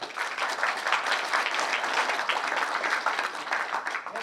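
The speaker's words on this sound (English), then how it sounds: "give a round of applause to Bill" Audience applause for a speaker at a ridge-flying talk, a steady dense wash of many hands clapping throughout, moderately loud with no voices over it.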